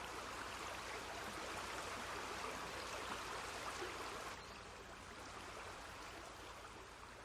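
An upland mountain stream in an Irish national park flows with a soft, steady rushing wash, quiet and continuous, with no voices and the level easing slightly partway through.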